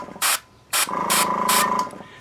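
Airbrush spraying paint onto a miniature wheel during weathering work: four short bursts of sharp hiss, the later ones longer and blended with a faint mechanical hum, close by and clear.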